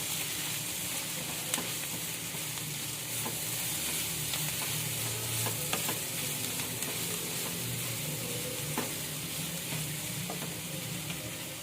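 Chicken spring roll filling with spices being mixed in a hot pan, a loud, even sizzle running throughout with occasional light spatula clicks and scrapes, no voices.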